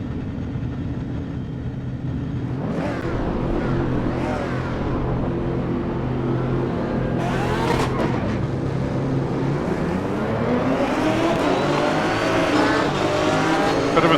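A pack of race cars starting a race on a circuit in a racing sim game, engines roaring together loud and continuous with rising revs, gear changes and tire noise layered throughout, no talking.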